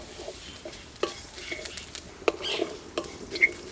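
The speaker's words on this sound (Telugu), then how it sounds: "ఒక అర చెంచా మెంతులు ఒక చెంచా జీలకర్ర ఇవన్నీ చక్కగా దోరగా వేయించుకుందాం" Sesame seeds, fenugreek and cumin dry-roasting in a pan, heard as light, irregular scrapes and faint crackles from stirring, close by and with no talk.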